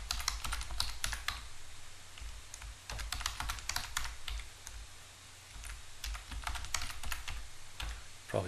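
Rapid clicking keystrokes on a computer keyboard as a password is typed during a software installation, close and continuous in uneven bursts with brief pauses.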